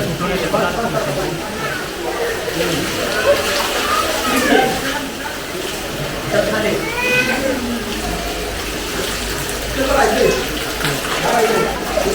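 Steady running water gushes continuously from a cow-mouth temple spout at Tuljapur in the foreground while people talk over it.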